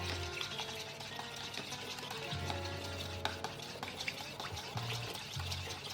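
Berlin-style potato salad with Spreewald pickles and apple tossed in a bowl, giving a steady, quiet, close stream of soft wet scraping and mixing sounds with no talk.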